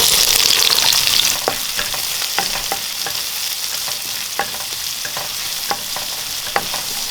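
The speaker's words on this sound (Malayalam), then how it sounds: "ശേഷം കരിയാപ്പില ഇട്ടു നമുക്ക് സവോള ഇട്ടു" Sliced onion frying in hot oil with curry leaves, cloves and cardamom for a potato curry produces a strong, close sizzle, louder at first, with regular spatula knocks and scrapes stirring the pan.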